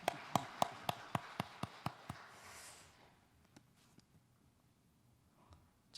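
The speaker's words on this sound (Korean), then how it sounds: "하나님께 영광의 박수 드리겠습니다." A church congregation at a Sunday evening service claps in a quick, even rhythm of about eight sharp claps, then fades to scattered faint taps and near silence.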